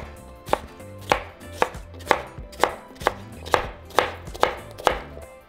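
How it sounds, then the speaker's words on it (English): A knife cutting cucumber into small cubes on a board, about ten crisp evenly spaced chops in a steady rhythm, close and clear with no talking. "I'm just going to cut it into small cubes"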